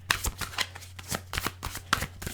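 Tarot cards are shuffled by hand in quick irregular riffles and flicks, close and fairly quiet.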